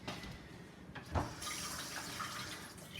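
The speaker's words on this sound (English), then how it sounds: "One trick is to rinse your blade frequently." Water runs steadily from a kitchen tap as a knife blade is rinsed while cutting onion, a continuous close splashing flow with a brief stronger splash partway through.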